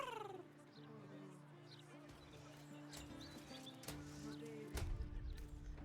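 A cat in the video game Baldur's Gate 3 gives a short, faint meow near the start over quiet ambient game music, followed by soft scattered background sounds.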